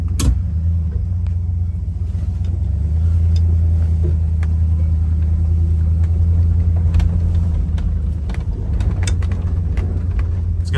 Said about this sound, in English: It's got the 383 suspension, just kind of floats down the road. Even on grass like this, it's not super even, it just drives super nice.